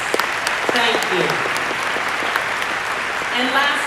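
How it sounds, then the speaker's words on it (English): A crowd at a Congressional Black Caucus ceremony claps steadily for honorees, broad applause with voices talking over it throughout. "Let's give them all a round of applause."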